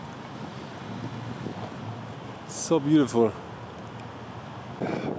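Wind on a blustery day outside a church in Timisoara, a steady low rush with microphone buffeting, while a person speaks briefly in the middle.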